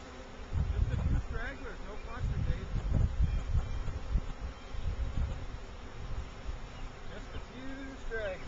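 A three-pound mail-order package of honey bees gives off a steady, dense buzz throughout, with people talking over it at moderate level.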